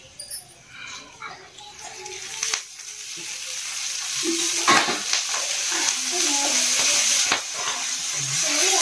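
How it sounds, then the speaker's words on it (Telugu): Ripe red chillies fry and are stirred in a pan for chutney, giving a steady broadband sizzle with scraping stir strokes and a few sharp clanks, while children's voices sound in the background. "ఇంకా మిరప్పండి అయితే వేయించుకుంటున్నాను చూడండి"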